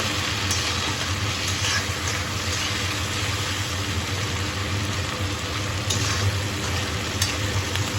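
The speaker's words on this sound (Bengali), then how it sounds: "পেঁয়াজ দিয়ে দিচ্ছি, দিয়ে ভালোভাবে নেড়ে চেড়ে কষিয়ে নেব।" Grated onion is stir-fried in a pan for a Bangladeshi kachki fish dish, making a loud, continuous frying hiss with occasional light clicks of a spatula against the pan and no talking.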